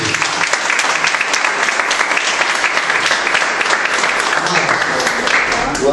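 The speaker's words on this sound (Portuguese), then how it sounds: "Vamos receber o bispo Eduardo com palmas bem alegres para Jesus." A church congregation at a missions conference in Lisbon applauds the arriving bishop, a dense, steady wash of many hands clapping close and loud throughout, with faint voices mixed in.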